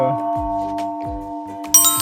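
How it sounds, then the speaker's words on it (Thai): A struck temple bell at a hilltop Buddhist temple in Lampang, Thailand, rings with a sustained metallic tone that hums through the whole two seconds, with low thuds recurring beneath it and a bright clang near the end. "ระฆังดังเพราะคนตี"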